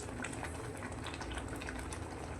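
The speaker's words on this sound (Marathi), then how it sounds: "आता याला छान उकळी आली आहे" Water bubbles at a rolling boil in a pan on the stove, producing a dense, continuous, moderately quiet bubbling with no other sounds.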